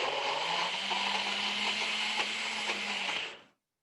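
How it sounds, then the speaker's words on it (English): An electric blender whirs steadily, blending onions with oil, with a continuous loud motor drone and chopping churn for about three and a half seconds before stopping abruptly. "A little bit of onions in a blender with some oil."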